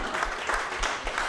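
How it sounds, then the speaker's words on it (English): Audience applause at a stand-up comedy show, a brief steady patter of many hands clapping, fairly close and full, with no talk over it. "Now stop clapping, because it's not the largest."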